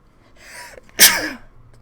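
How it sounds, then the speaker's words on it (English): A single sharp human sneeze, close and loud, preceded by a brief breathy intake, then fading away. "Sorry, didn't mean to sneeze at you."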